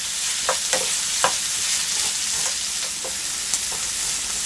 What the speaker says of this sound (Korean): 양파가 순이 다 죽고 색깔이 캐러멜처럼 누렇게 될 때까지 계속 볶아주셔야 합니다